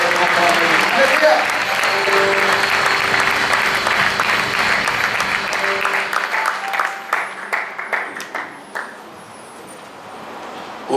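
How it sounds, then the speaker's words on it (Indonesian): A church congregation applauds, a loud, dense wash of clapping that fades into scattered individual claps before dying away. Voices murmur beneath the applause. "Berikan tepuk tangan bagi teman kita, teman-teman ini."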